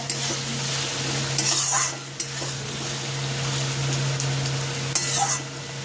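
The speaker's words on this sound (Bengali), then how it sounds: "দিয়ে দেবো ভেজে রাখা পনিরটা" Fried paneer added to oily masala being stirred and fried, a loud continuous sizzle with spoon scrapes and occasional pan knocks, close up.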